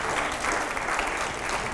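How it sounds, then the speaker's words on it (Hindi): An audience at a televised political panel discussion claps in a brief, steady burst of applause, evenly textured and fairly close. "जरा जोरदार तालियां हो एक बार"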